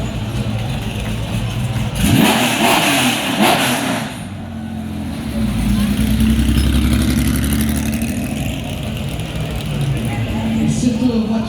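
A Renault Clio racing car at a historic motorsport event roars past with a loud revving engine, rising and falling through gears, while a commentator talks over the sustained engine noise.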